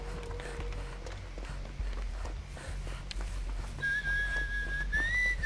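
Sharp, high whistles blown into a microphone cut over a low background hum, with a long sustained whistled tone toward the end that bends slightly upward.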